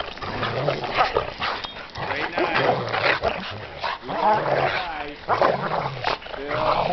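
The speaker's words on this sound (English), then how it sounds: "Max, that's enough, buddy. Good dog." Dogs playing in snow bark, growl and whimper in rough, excited bursts close by, while a person talks over the commotion.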